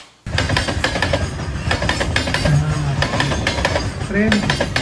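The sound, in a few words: train wheels clacking over rail joints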